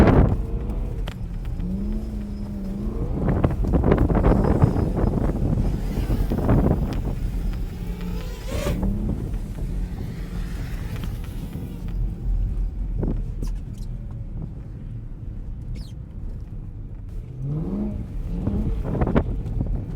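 An E92 BMW M3 on Vredestein Wintrac Pro winter tires driving over snow and ice, its engine revving and droning up and down through the gears, with wind rush and tires churning snow, loud and close throughout.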